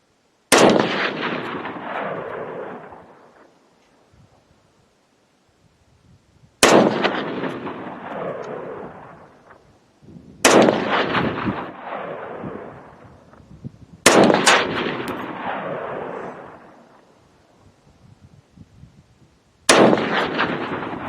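An SKS rifle built as a designated marksman rifle fires five loud, sharp shots at an outdoor range, spaced several seconds apart, each crack trailing off into a long rumbling echo.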